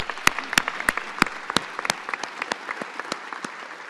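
Scattered applause for the outgoing Metro Youth Council chair at a Metro press briefing, sharp individual claps rising out of a thin clapping bed, sparse and distinct, fading toward the end.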